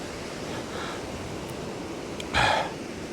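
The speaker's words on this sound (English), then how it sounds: "that wind's pretty fresh" Fresh wind at Sandbanks Beach rushes steadily against the microphone, a broad hiss with a brief louder gust near the end.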